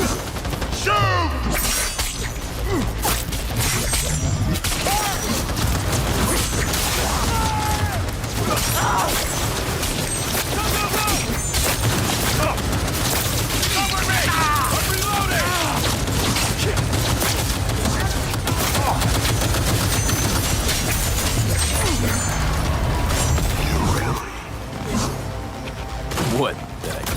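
Rapid gunfire bursts in a Cyberpunk 2077 firefight, loud and nearly continuous with sharp cracks and shattering impacts, layered with combat noise and a voice calling out over it.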